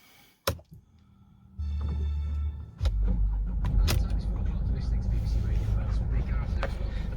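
A 2011 Mercedes C200 CDI Elegance W204 estate diesel cranks and fires after a few clicks, settling into a loud, steady low idle rumble close by, with a couple of sharp clunks along the way.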